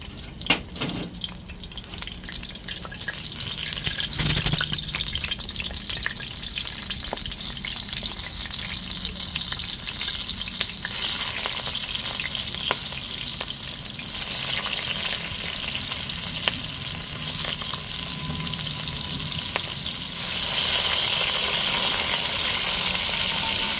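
Garlic and pepper frying in a pot for a Jamaican sprat and bammy dish, a steady close sizzle with occasional stirring clatter and drips, no voices.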